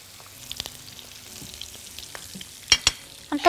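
Olive oil and butter sizzle quietly in a wok with a low, steady hiss, broken by a few sharp clicks and taps near the end.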